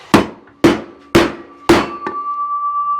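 A hammer whacks sheet metal four times at an even, deliberate pace, each loud close blow ringing out, followed by a lighter tap and a sustained metallic hum.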